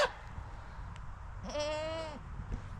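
A goat out on a pasture gives one loud, nasal, wavering bleat lasting about half a second, close by, with quieter farm background noise around it and no talking.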